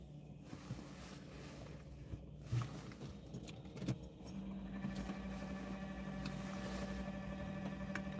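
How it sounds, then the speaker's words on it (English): A broken car CD player with a stuck Bob Marley CD makes a steady whirring, grinding drone with faint tonal hums. A few sharp clicks and knocks come early, then the drone grows louder and stays constant to the end. "That noise that you're hearing now is my CD player"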